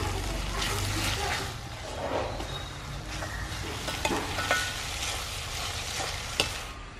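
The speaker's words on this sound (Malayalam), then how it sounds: "നല്ലോണം ഒന്ന് ഇളക്കി കൊടുക്കാം." Onions, slit green chillies and curry leaves fry and sizzle in a pan while being stirred, a continuous close crackle broken by occasional scraping and clinks, with no voices.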